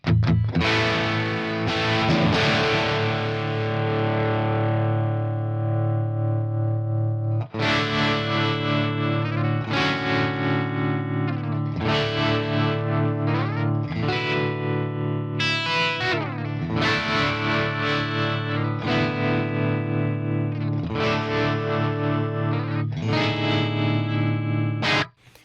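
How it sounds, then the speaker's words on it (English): An electric guitar played through the Swart Atomic Space Tone amp model on an Axe-Fx III, with a slow tremolo set around 2 Hz, rings out in repeated sustained chords that throb steadily under light distortion and reverb, with no talking. "See, this tremolo sounds really great."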